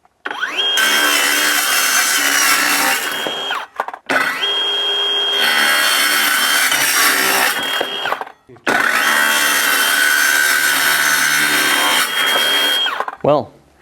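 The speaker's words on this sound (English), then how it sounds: "slice a few bits off this uni-strut and see, does it cut cold like it's supposed to?" A cold-cut saw slices through steel uni-strut in three loud, sustained cuts of roughly four seconds each, with short pauses between them as the blade spins down.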